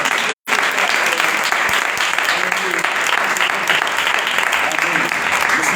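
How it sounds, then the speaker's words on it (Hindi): Loud, sustained applause from a church congregation fills the whole stretch, dense and steady, broken only by a brief dropout near the start. "कलाम के लिए हम जोरदार ताली"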